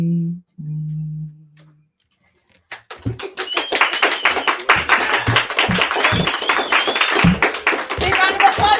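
Audience at a book opening claps after a reading, a dense burst of handclaps starting partway through and continuing steadily, following a short stretch of a voice speaking and a pause.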